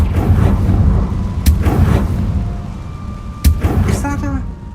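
Confringo explosive spell blasts in Hogwarts Legacy ring out as two sharp, loud bangs about two seconds apart over a heavy low rumble of combat and background music.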